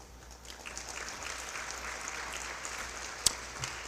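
A church congregation applauds, a soft, steady wash of many hands clapping at a distance, faint and continuous with no speech over it.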